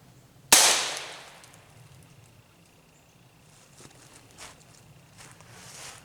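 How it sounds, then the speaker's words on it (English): A single .22 rimfire CCI snake shot round fired outdoors, one sharp loud crack with a decaying tail, followed by quiet ambient noise and faint scuffs. "we're going to shoot the 22 rimfire"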